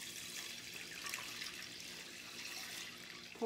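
Broth poured into a pot of risotto in a home kitchen: a soft, steady splashing and trickling of liquid, fairly quiet and continuous, with a brief louder knock at the very end.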